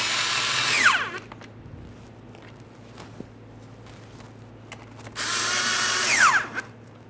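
A power drill drives the two fog light mounting bolts on a 2012-2018 Nissan Altima bumper, in two whirring bursts of about a second each, separated by quiet shop noise and a faint click.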